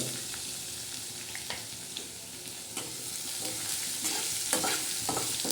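Dried fish and garlic fry in a pan with a steady, close sizzle, while scattered clinks and scrapes of a spatula stirring come through now and then.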